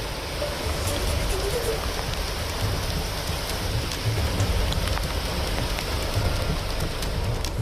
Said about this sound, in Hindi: वहां भी इस समय भारी बारिश हो रही है